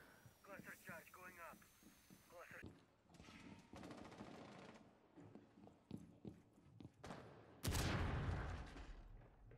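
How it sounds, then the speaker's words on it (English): Bursts of video game gunfire, rapid rattling shots in short volleys mixed with footsteps and a louder blast near the end, while people talk over the action. "I started shooting on the entire thing"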